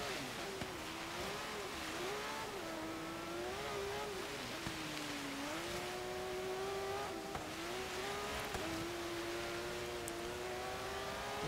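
A 2004 Porsche 911 GT3 climbing a snowy hill course in Forza Horizon 3, its engine droning and rising and falling in pitch through gear changes and throttle lifts, with faint tire noise.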